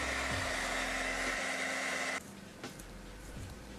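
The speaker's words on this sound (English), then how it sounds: "Let me blow dry that on cool." A blow dryer on its cool setting roars steadily while drying a wig's lace, then shuts off abruptly about two seconds in, leaving quiet rustling handling noises behind.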